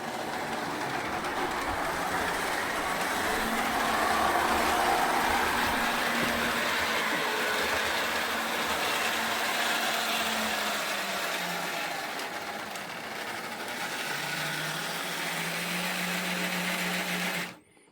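A Lionel Docksider 8700 Rock Island 0-4-0 switcher toy train hauls a long string of O-scale cars, its small motor whirring steadily close by with a sewing-machine buzz and rattling wheels, then stopping abruptly at the end.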